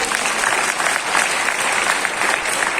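An audience applauds at an event, a dense, steady wash of clapping from many hands that carries on without a break.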